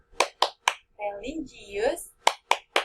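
A school Tepuk PPK clapping chant: three sharp rhythmic hand claps, a short spoken chant line, then three more claps, close and loud.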